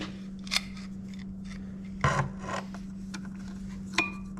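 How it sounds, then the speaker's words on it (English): Pliers grip and twist the oil filter on a Mercury ProXS four-stroke outboard engine, making a few short metallic scraping and creaking bursts over a steady low electrical hum. "just a little crank with the pliers just to break her loose, like that"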